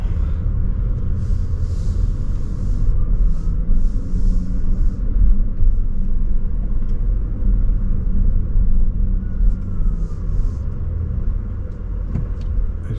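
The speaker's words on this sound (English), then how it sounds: "this car has a sound that it produces from I guess some speaker underneath the hood." Steady low rumbling drone of a 2021 Audi e-tron Prestige electric car driving, with faint higher whirring tones from its artificial driving sound on top; continuous and fairly loud, no voices.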